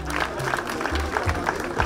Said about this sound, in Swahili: Jane, haya pigieni Jane makofi mazuri.